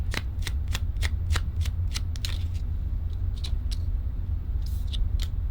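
A deck of tarot cards is riffled and shuffled up close, with a quick run of sharp crisp flutters followed by softer, sparser card snaps.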